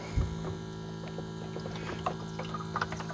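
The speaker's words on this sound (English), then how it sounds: "And you can hear the pump come on." The drain pump of a TD1200 hydrogen gas generator runs with a steady electric hum, accompanied by faint gurgling water and small clicks as water is pushed out of the system.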